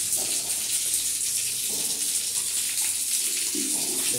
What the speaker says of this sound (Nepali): पानी पनि चालु भइसक्यो। पानीको फोर्स बवाल छ।